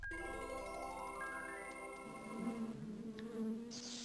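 A buzzing swarm of bees conjured by a spell in the fantasy video game Lands of Lore, a steady insect drone with layered tonal hum and game effects, continuous and fairly loud throughout.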